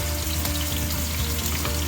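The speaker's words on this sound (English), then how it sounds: "Oh, you hear that sizzle?" Continuous, dense sizzling of a chicken roll-up frying in hot oil, steady and close, with crackling pops throughout and no voices.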